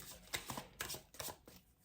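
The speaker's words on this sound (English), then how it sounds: "I will do another shuffle." Tarot cards are shuffled by hand in soft, quick riffling bursts, about four brief flurries in under two seconds. The sound is faint and close in a quiet room.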